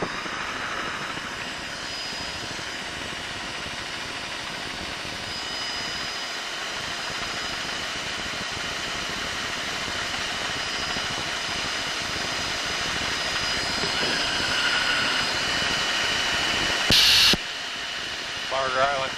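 A steady, loud roar of an aircraft engine fills the whole stretch, unbroken and close, with a brief high beep near the end.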